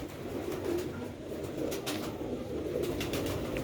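Sialkoti rooftop pigeons cooing softly in low repeated murmurs, with faint flutters and a light outdoor background hum, no speech.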